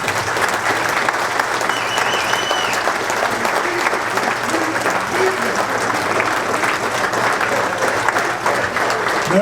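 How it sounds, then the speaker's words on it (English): An audience at a football presentation applauds loudly and continuously for the venue, dense clapping filling the room for several seconds with faint crowd murmur beneath. "The venue, let's give him a round of applause."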